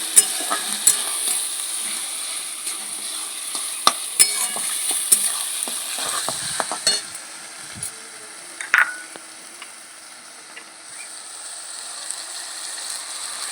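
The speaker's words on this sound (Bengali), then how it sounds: "তেলের মধ্যে একটু কষিয়ে নেব মশলাটা" Ground spice masala for soya curry sautés in oil, giving a soft sizzle broken by sharp clicks and scrapes of stirring that thin out toward the end.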